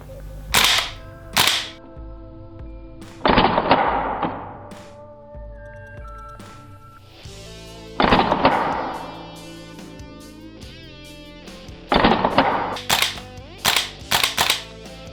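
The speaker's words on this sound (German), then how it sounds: "machen wir mal noch ein paar Schuss, damit ihr euch das mal angucken könnt" Several sharp shots from an Umarex VFC H&K PSG-1 airsoft gas blowback rifle ring out in separated bursts, loud and close, with quiet pauses in between and no talking.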